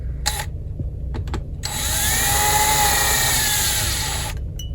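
A power drill winding strings on a 1995 Fender Stratocaster '62 reissue whirs in a long, steady burst after a few short clicks and rattles, close and loud, with a faint rising squeal as it spins.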